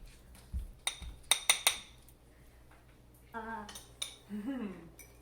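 Gratin dauphinois, a French cheesy potato dish, is scooped from its baking dish to serve, with several sharp clinks and scrapes of a utensil against the dish and brief voices chatting near the end.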